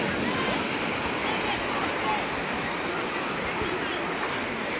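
Large waves of the North Sea surging against the shore, heard as a steady loud wash of surf that continues without a break.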